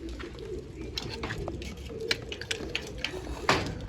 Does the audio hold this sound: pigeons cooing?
yes